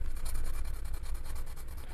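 Colored pencils pressed onto a coloring book page in layered strokes, a steady close dry scratching and rubbing that runs continuously with small rhythmic pulses.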